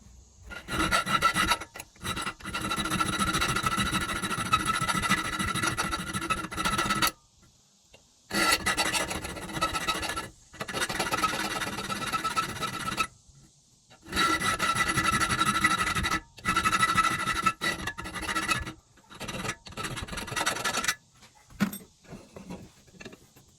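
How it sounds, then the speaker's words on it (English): A round file rasps a steel knife blade forged from leaf spring, in steady back-and-forth strokes grouped into long runs separated by brief pauses. "I'm going to go ahead and take a round file and file in this little sharpening corner here"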